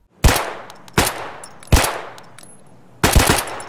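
A suppressed MP7 submachine gun fires four sharp, loud bursts spaced about a second apart, each cracking and then fading quickly, with the final burst slightly doubled.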